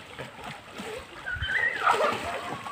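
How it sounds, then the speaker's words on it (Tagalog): A person dives into a river in rural Cavite, making a short, loud splash followed by sloshing water, with excited voices talking nearby. "Sumisid po yung isa doon."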